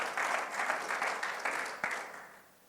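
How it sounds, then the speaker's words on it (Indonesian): A church congregation at a Sunday worship service applauds, fairly faint and roomy, with clapping that pulses in waves before tapering off toward the end. "Berikan tepuk tangan"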